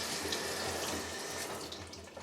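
Warm tap water runs steadily over paintball mask foam, a continuous splashing rush from a faucet close by with no pauses or voices.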